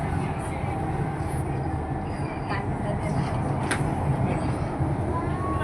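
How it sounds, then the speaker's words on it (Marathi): A metro train runs with a steady loud rumble and faint rail squeals, heard from inside the moving carriage under low background chatter. "मेट्रोनी प्रवास करतो."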